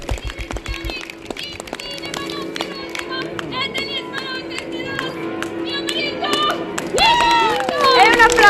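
Applause from an audience at a Venice Carnival show, a lively crowd of clapping hands running underneath someone speaking loudly, growing fuller toward the end.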